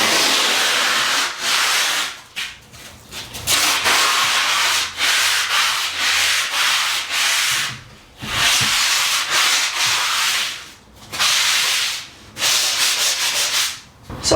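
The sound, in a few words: foam sanding block rubbing down filled plasterboard ceiling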